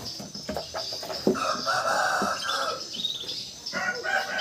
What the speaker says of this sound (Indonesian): Ini ayam sih mireng kayak gini.